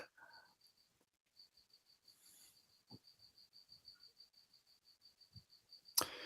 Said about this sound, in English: I hear a cricket. I guess there is a cricket outside.